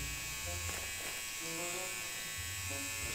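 Steady electric buzz of a tattoo machine fitted with a smaller, finer needle, continuous and close at low level, with faint talk in the background.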